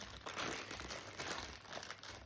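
Plastic packaging bags crinkling and rustling as a Temu or AliExpress order is unboxed, a continuous close crackle throughout with no clear speech.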